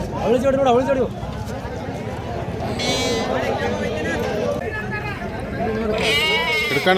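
Sheep and lambs bleating at a busy weekly sheep and goat market in Kerur, several short bleats near and far under constant nearby chatter and bargaining voices.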